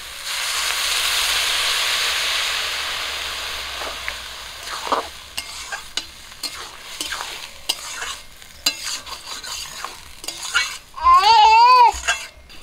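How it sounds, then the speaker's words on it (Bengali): Water poured into a pan of fried taro flowers, giving a long steady hiss of sizzling steam followed by scattered clinks and stirring scrapes, close and with no talking. "কচু ফুলগুলো ভাজা হয়ে গেছে, সিদ্ধ করার জন্য জল দিয়ে দিচ্ছি।"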